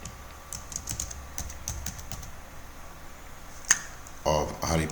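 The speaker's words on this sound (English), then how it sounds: "We can decide to type Steve, Harry Potter." Name being typed on a computer keyboard in a help-desk software setting, a run of light, uneven key clicks in short bursts, fairly close and moderately quiet over a low hum.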